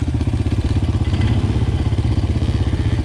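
A motorcycle engine idles and revs close by, a steady, loud rumble with rapid rhythmic pulsing that carries through the whole stretch, with no voices over it.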